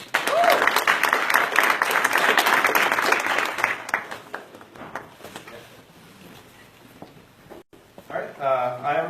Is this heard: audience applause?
yes